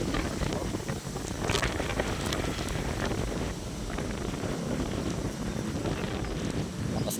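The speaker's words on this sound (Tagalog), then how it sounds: "Mas nahangin." Strong, continuous wind on a rainy morning buffeting the microphone with a rough, gusty roar, no talking.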